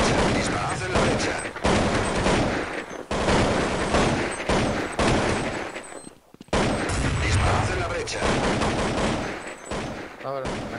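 Heavy gunfire in a competitive matchmaking shooter round with terrorists and a planted bomb: dense, loud bursts of automatic fire running almost continuously, broken by a brief lull about two-thirds through.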